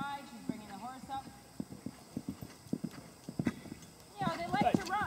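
Horse hooves canter in a regular clip-clop rhythm on an arena surface while a person talks over them, and the horse whinnies near the end.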